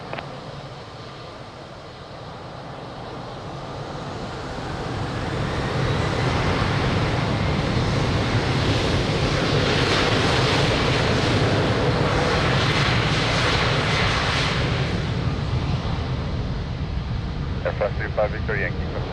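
A fixed-wing airliner takes off from runway 02 at Lisbon Airport, its engine roar building after about five seconds into a loud, sustained rumble and whine that holds to the end, with radio voices from the tower.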